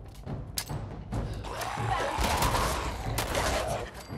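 A self-thrown grenade goes off in Fallout 4, a sharp blast followed by scattered thuds and crackling debris, with a second burst later, all at moderate loudness inside a vault.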